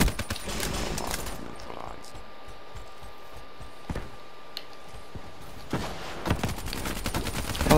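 Rapid gunfire in a Call of Duty-style shooter played with a Man-O-War class, bursts and scattered single shots over ongoing game noise, with a player's voice talking over it.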